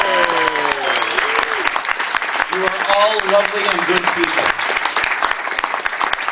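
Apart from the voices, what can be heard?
applause for the recipients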